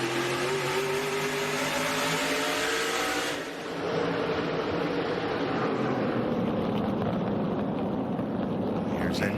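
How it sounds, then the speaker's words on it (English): Onboard engine of Ryan Newman's SRX race car at Stafford Motor Speedway, a loud, continuous droning roar with rising and falling harmonic pitch, a brief dip as the throttle lifts, then back to full power with wind rush; a commentator speaks over it. "Just can't quite get all the power hooked up. You can hear it in onboard camera sound from Ryan Newman's car also."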